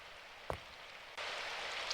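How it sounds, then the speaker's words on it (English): Steady rain from the video game Symphonic Rain, a soft hiss that swells suddenly into heavier, stronger rainfall partway through, with a single faint tap near the start. "The rain was a little stronger than normal that day."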